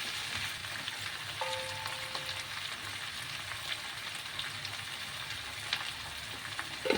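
Spices frying in a pan as the base of an egg poach gravy, a steady crackling sizzle with light stirring that holds at an even, close level and carries no speech.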